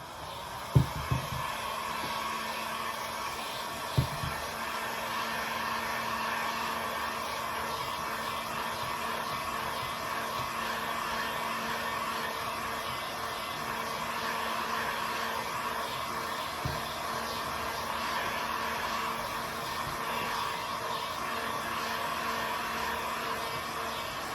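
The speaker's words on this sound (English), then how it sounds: "we're going to hit this with my heat gun for just a second" Steady, continuous whoosh of a heat gun blowing on a door hanger, loud and close, holding an even airflow hiss throughout with a couple of light knocks near the start.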